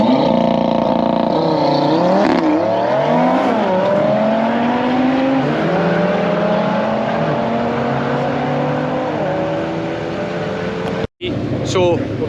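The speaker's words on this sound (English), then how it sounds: "He's going to do a right good 5-pot launch for us here." An Audi 8V RS3 drift car with a five-cylinder engine launches at a drag strip, its loud engine climbing in pitch through several gear shifts and then fading as it pulls away, with someone talking over it.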